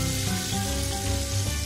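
Battered banana fritters fry in hot oil, giving a steady, close, loud sizzle and crackle with no pauses and no talk.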